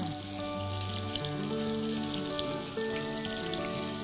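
Koi fish frying in a hot pan of oil gives a steady, soft crackling sizzle with scattered pops, continuing alone under faint tonal background music.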